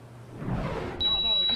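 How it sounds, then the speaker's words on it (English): A burglar alarm rings inside a smoke shop during a break-in, starting abruptly as a steady high electronic tone after a brief burst of crashing noise. "The alarm sounds as two unmasked burglars burst their way into Urban City Smoke Shop"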